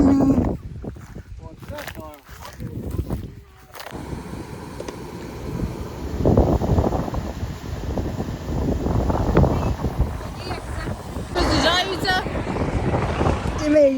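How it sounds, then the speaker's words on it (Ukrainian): Strong wind buffets the microphone in a continuous rumbling roar in a field during harvest, with short bursts of voices heard faintly over the gusts. "Вітер такий сильний."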